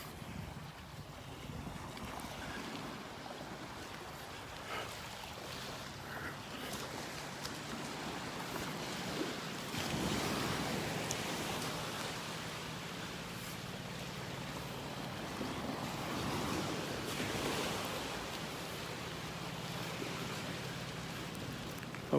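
Ocean waves and surf washing steadily onto a beach in North Naples, Florida, on a breezy morning, with wind buffeting the microphone and swells rising and falling continuously throughout.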